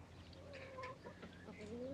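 Chickens cluck softly in a farmyard scene from a 1970 television series, a faint, low murmur of fowl under background talk.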